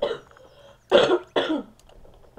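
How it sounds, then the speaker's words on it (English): Two sharp coughs from a person close to the microphone, each a short loud burst about half a second apart, with faint background noise before and after. "If I could maybe not cough."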